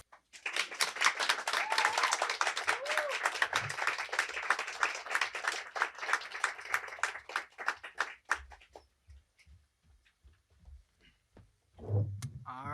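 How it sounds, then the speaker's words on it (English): Applause at a monologue night performance: a dense run of clapping from a live audience that thins into scattered claps and fades, with a voice coming in near the end. "let's have another round of applause for Tangine, everybody."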